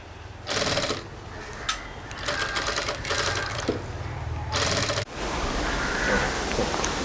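Sewing machine stitching tape onto a jute sling bag: several loud whirring runs of rapid needle chatter, separated by short pauses and handling clicks, close and clear.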